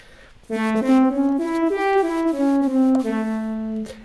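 A smooth, reedy electronic wind instrument (EWI) plays a short run of stepwise notes from an altered pentatonic scale up and back down, alone and clear.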